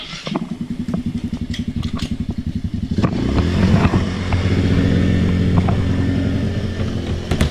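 A four-wheeler ATV with a nail-punctured flat tire chugs at a steady idle, then its engine rises louder and rumbles on as the quad is maneuvered around, with clattering and scraping over the close, continuous motor.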